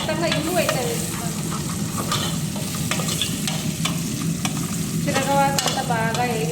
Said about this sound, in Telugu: తిరగవాత అంతా బాగా వేగిపోయింది.